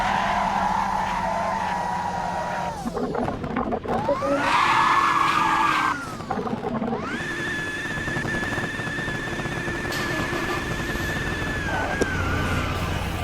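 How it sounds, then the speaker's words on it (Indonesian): Mitsubishi Lancer driven in a video game on a Jakarta Square map, its engine droning steadily with long rising and sliding tire-skid squeals throughout, loud and continuous with no talking. "Pakai mobil Mitsubishi Lancer."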